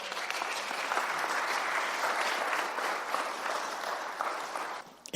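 A church congregation applauds in a sustained, dense wash of clapping that holds steady at moderate distance for several seconds before cutting off abruptly.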